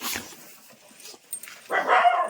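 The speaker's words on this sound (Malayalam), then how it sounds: "നോക്കിയേ കുറച്ച് പട്ടിയുള്ള കേട്ടോ ഇവിടെ" Several dogs bark and yip outdoors at a home, with a burst of whimpering barks near the start and a louder, closer run of barking toward the end; no speech.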